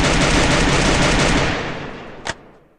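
A mobile battle-royale guild war brings a loud, dense rattle of automatic gunfire that fades away, followed by one sharp single shot near the end.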